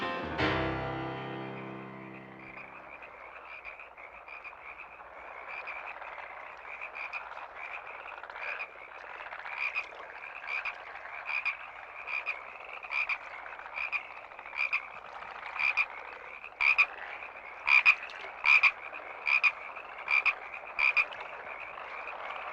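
Frogs croak at night, a low chorus trilling steadily before one nearby frog takes over with a run of regular, loud, pulsing croaks repeating about once a second and growing stronger toward the end.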